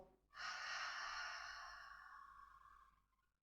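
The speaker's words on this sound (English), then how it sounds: "as you exhale, a soft ha sound at the back of your throat" Slow exhale with a soft throaty ha during yoga breathing, a single breathy whoosh that swells quickly then gradually fades over about three seconds, close and quiet.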